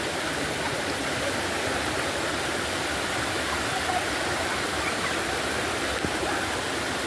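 A hidden waterfall in the mountains roars as a constant, dense wash of falling water, steady and unbroken for the whole stretch with no voices.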